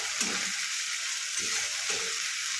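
Shrimp curry ingredients, without garlic, sizzle and fry in a pan, a steady bright hiss with a few soft stirring scrapes, close and alone.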